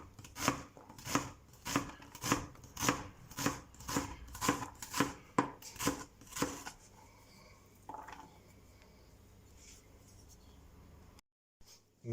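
An onion is chopped with a knife while cooking chicken with rice: about a dozen close, crisp, evenly spaced cuts, then quieter scraping and handling noises.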